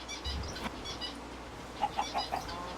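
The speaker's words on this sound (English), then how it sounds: "Ah, chicken!" A Minecraft chicken in the Sky Factory 2.5 modpack gives a quick run of four short clucks near the end, rising above a steady ambient game background.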